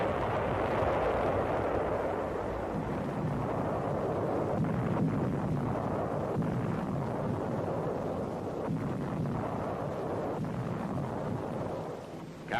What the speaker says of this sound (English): Navy films show phases of the three-day bombardment prior to amphibious invasion of the 8-square-mile island